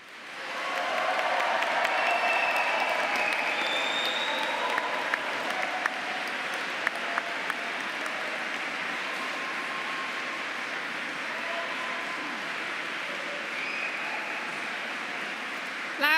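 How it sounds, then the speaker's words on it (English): Graduates in Canterbury Cathedral applaud their supporters, sustained dense clapping that swells in and rolls on with a reverberant wash for the whole stretch. "So now will you applaud your supporters in return?"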